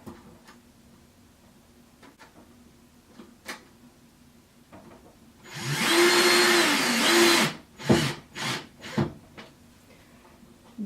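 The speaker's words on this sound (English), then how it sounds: "Now let's put second screw in because I need 2 screws for this." A power drill drives a second screw into the back of artwork being wired for hanging: a loud steady whir of about two seconds, then several short bursts, amid quiet handling clicks.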